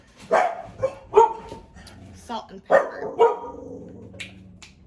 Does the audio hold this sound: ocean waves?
no